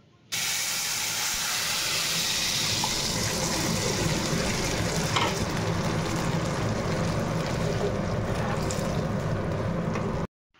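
Ghugni ingredients poured into hot oil in a pan set off a loud, steady sizzling hiss that starts abruptly and continues strongly for about ten seconds before cutting off.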